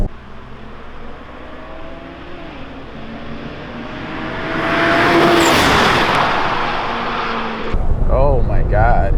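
A BMW 335i with traction control switched off accelerates hard through a second-gear pull, its engine note climbing steadily into a loud, rising roar from inside the car, then cutting off as a voice speaks over cabin noise.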